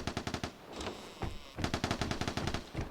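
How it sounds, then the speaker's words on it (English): LAD-5 automatic gunfire in the video game Vigor comes in rapid bursts of loud, sharp shots, several quick volleys with short pauses between them. "Doesn't that sound like an LAD-5?"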